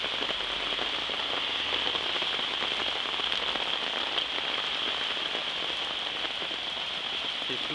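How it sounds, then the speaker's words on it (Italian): Heavy rain pours steadily during a summer thunderstorm in a garden, a dense, constant hiss of drops beating on surfaces, close and loud, with no voices and no breaks. "continua a piovere molto bene."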